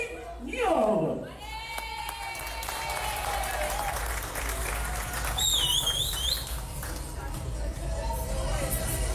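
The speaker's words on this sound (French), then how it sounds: "encore des applaudissements et des encouragements pour les bébés de Pythagore" Families at a nursery's year-end party applaud and cheer for toddlers, with steady clapping and crowd noise running throughout, whistles and shrill cheers rising above it, and voices talking over the din.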